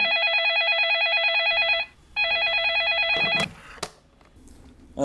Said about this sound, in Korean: 그런데 새벽 2시에 걸려오는 전화 한 통